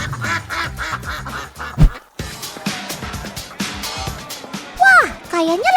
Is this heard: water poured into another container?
no